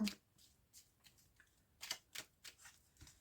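Oracle cards are shuffled for a reading, soft close riffling and sliding bursts of card against card coming in irregular quick flurries at low volume.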